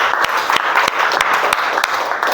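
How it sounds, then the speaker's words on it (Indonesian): Children in a classroom clap for a classmate, a loud, close burst of scattered claps with a few sharp, evenly spaced strong hits over a continuous patter. "beri tepuk tangan untuk Anggun anak-anak"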